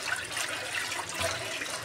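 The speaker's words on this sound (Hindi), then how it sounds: "दाल भिगोई थी उसमें मैंने पानी डाला, और सारा का सारा मैं अब इसमें ऐड कर लूँगी" Soaking water with lentils poured into a pot of rice for daal chawal, a continuous splashing pour heard close and fairly loud, with no talking.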